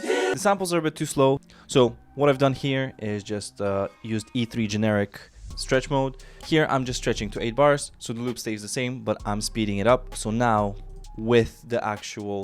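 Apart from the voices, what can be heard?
No distinct noise like a dog, phone or traffic.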